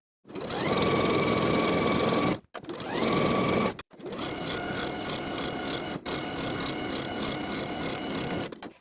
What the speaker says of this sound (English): I'll edge stitch close to the upper inner fold all the way around to complete the hem